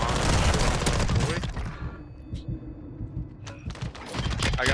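Gunfire in the video game Warzone 2: rapid bursts of shots crackle densely at first, then thin to scattered pops before another burst near the end, with a player talking over the fight.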